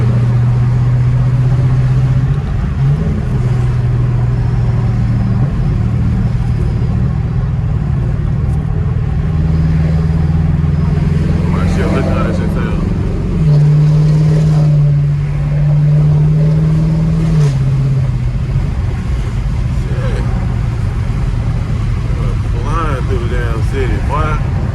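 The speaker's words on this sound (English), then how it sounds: "Camaro sounds good." A Chevrolet Camaro, said to have a possible exhaust leak, drones with a loud steady exhaust note while driving through city streets, its pitch stepping and dropping through several gear shifts, with occasional faint talk over it.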